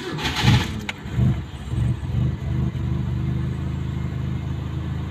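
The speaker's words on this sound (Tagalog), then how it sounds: "Ngayon i-start na natin itong makina" A car engine cranks in several rhythmic bursts, then catches and settles into a steady, close idle with no talk over it.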